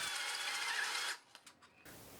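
A large stepped bit bores out a hole in a model plane's dummy radio insert, a steady close whir for about a second before it cuts off, leaving a few faint clicks and handling noises.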